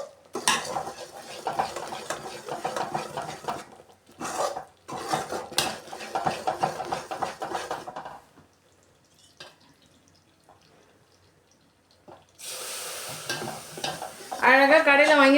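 A spoon stirs a Mysore Pak mixture of gram flour, sugar and ghee in a pan, scraping and clinking in steady strokes with faint sizzling, then a pause before a bright frying hiss near the end.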